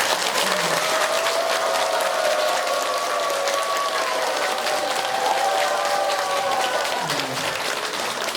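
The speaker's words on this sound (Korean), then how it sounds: "스님 모시고 다시 한번 큰 박수로 한번" Thick, sustained applause fills a Buddhist dharma assembly for a monk, with steady crowd clapping throughout and voices faintly rising above it.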